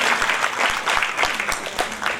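A crowd clapping steadily to welcome a guest at an education charity event, a dense burst of applause from a roomful of people, moderately loud and continuous.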